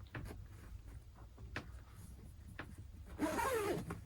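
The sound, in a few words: zipper being closed on a Renolux Olymp car seat cover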